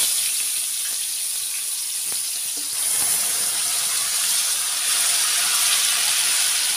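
Dry spices hitting hot oil in a pan while a paneer curry is being cooked on a gas stove, giving a loud, steady, close hiss and sizzle that carries on without a break.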